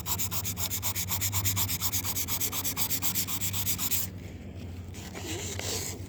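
Sandpaper rubbing steadily over van fender flares in fast, even back-and-forth strokes, loud and close, then a brief softer scraping passage with no talk.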